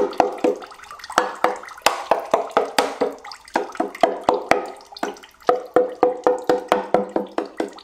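Water drips steadily from the oil pan of a flooded Pontiac into liquid below, a rapid, regular series of close plinks and plops that continues throughout.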